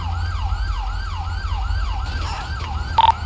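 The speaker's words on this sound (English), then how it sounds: "Why do I have 3 ambulances coming?" Ambulance sirens wail in a steady, rapidly repeating up-and-down sweep during an emergency response in GTA V, loud and continuous, with a short electronic beep near the end.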